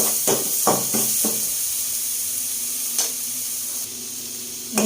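Onion sliced for ginisang patola with miswa and ground pork hits the hot pan in a steady close sizzle, with a few sharp crackling bursts early on and another pop near the end.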